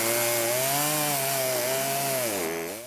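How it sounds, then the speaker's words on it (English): A chainsaw roars steadily and close at high revs, its pitch dipping as it bites into a storm-fallen tree during cleanup, with no talking over it. "just fire the chainsaw up and go"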